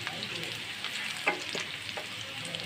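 Chopped onion sizzles in hot oil in a pan, left over from frying pabda fish. A steady hiss runs throughout, broken by a few brief scraping stirs.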